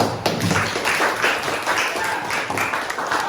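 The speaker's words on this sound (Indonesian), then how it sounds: "kita kasih tepuk tangan" Classroom students give a short round of applause at the end of a lesson, scattered claps at moderate distance with some voices underneath.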